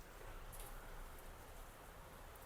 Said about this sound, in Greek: έξω βρέχει